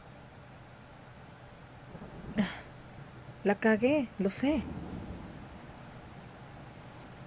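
A thunderstorm's steady rain hiss and low rolling rumble run through the whole stretch, with a voice speaking briefly over it in the middle.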